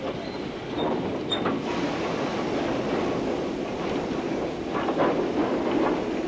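A British Rail Class 08 diesel shunter works on a heritage railway, its steady low engine rumble running throughout with faint rail clatter and a brief squeal early on.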